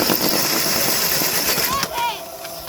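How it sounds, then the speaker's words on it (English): A dirt bike engine idles and revs loudly and close by outdoors, a steady rough drone with a brief rise near the end, while people talk over it. "Or you guys want me to rev it?"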